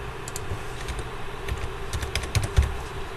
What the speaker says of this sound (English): Let me see if I can type it.